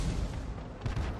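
A Hummel self-propelled artillery gun fires in a video game, a short heavy boom with a rumbling low-end tail filling the whole brief moment, with no talking.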